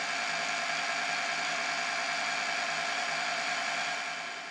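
Sieg SX2P mini mill spindle spinning at just over 1,000 RPM gives a steady, close mechanical whir and hum with an even tone that fades slightly at the end.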